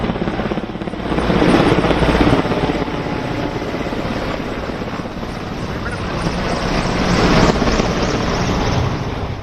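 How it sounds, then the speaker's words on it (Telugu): A loud, steady helicopter rotor thrum fills the air, swelling slightly as military helicopters pass overhead during Republic Day parade rehearsals in Delhi, with no talking. "ఆకాశంలో హెలికాప్టర్ల విన్యాసాలు పదాది దళ ప్రదర్శనలు అల అలరించాయి"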